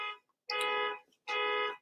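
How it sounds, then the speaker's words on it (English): A car alarm sounds outside in two long harmonic blasts separated by a short gap, loud and steady with no talking over it. "Somebody's car alarm's going off outside."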